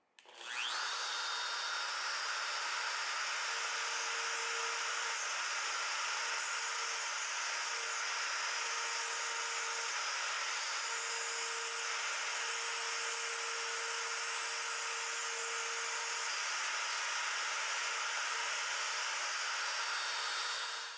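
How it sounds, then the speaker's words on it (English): A router cuts a mortise for a brass escutcheon into Bolivian rosewood, a continuous high-pitched motor whine and cutting hiss starting abruptly and running steadily for about twenty seconds, close and alone without voices. "With the router depth stop set to 1/8 inch, I'll go ahead and cut the mortise for the escutcheon."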